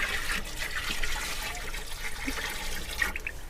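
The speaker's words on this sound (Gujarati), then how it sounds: "એક કિલો દેશી ગોળનું પાણી છે ઓકે ઓકે નાખો અંદર" Jaggery water made from one kilo of local jaggery pours into a jivamrut farm mixture, a continuous splashing, gurgling stream of liquid lasting the whole moment with no voices.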